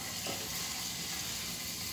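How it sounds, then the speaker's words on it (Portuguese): Garlic and onion sauté in a pressure cooker, giving a steady, dense sizzle and hiss close by with no talking. "Agora eu vou deixar dar uma refogadinha aqui no alho, na cebola."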